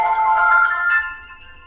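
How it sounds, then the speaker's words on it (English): A rainforest ringtone previewed on an OPPO Find X9 phone plays as a bright, chiming melodic tone, clear and close, fading out after little more than a second. "So let's pretend I would like to set this rainforest as my ringtone."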